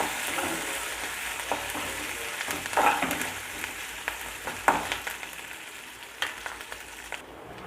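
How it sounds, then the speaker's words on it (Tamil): Curry leaves sizzle in hot oil as a tempering for ven pongal, a close, steady crackle broken by several sharper spatters and scrapes of stirring. "கருவேப்பிலை சேர்த்து இதையும் நல்லா தாளிப்பு கொடுத்துக்கிடுவோம்"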